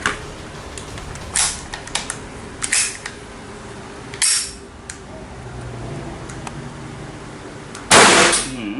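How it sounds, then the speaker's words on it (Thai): A Kuzey Glock 19 FBI-version blank pistol fires single shots, several sharp cracks spaced seconds apart with a louder final blast, alone over a faint background with no talking. "ผมจะยิงทีละนัด ละนัด แล้วก็กระบอกที่สองเนี่ย ผมจะยิงแบบ ยิงรัวเลยนะ"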